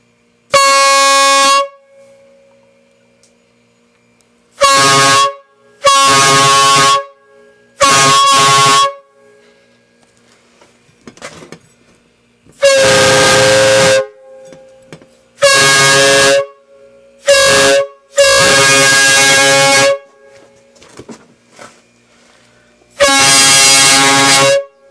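Newly installed train horns on a vehicle blare in loud, high-pitched bursts, roughly eight separate blasts of varying length with near-silent gaps between them, close and piercing.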